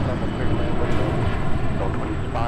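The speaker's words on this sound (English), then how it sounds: "let's take another look at the go-around as Sun Country on the go" Sun Country airliner on a go-around at MSP airport, a loud rumbling jet engine roar with a thin high whine, continuous over the short span, with speech mixed in.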